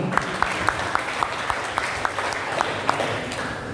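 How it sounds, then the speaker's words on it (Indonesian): Students applaud together at a school disaster-safety outreach session, a sustained room-filling round of clapping with a few sharper individual claps standing out through it. "Tepuk tangan teman-teman semua"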